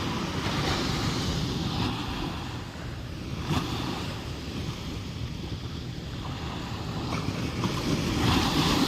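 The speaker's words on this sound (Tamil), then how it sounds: "அந்த அலையுடைய சவுண்டு எப்படி கேட்குன்னு பாருங்கள்" Ocean waves wash onto a beach at Alappuzha, Kerala, a continuous broad surf rumble with gentle swells of intensity, steady and fairly close, with no talk over it.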